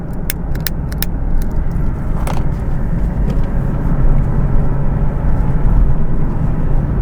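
Car driving on the empty Col de La Bonnette mountain road in France, heard from inside: a loud, steady low engine and road rumble with occasional light rattles and clicks, holding continuously and swelling slightly toward the end.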